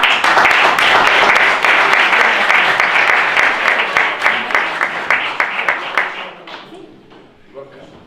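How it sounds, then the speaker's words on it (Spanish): Audience applause for an award winner at a literary prize ceremony, a dense, loud burst of clapping that holds steady and then thins into scattered claps as it fades toward the end. "un aplauso para Ana"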